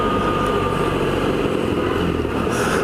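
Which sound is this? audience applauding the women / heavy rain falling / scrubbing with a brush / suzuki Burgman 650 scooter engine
suzuki Burgman 650 scooter engine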